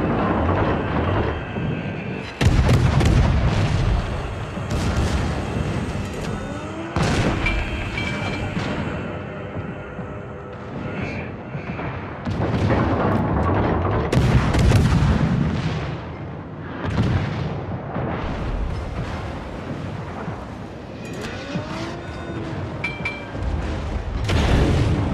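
Naval artillery from the heavy cruiser Chikuma firing at a target in World of Warships, deep booming salvos repeating every few seconds over a rumbling ship ambience, loud and close, with no talking.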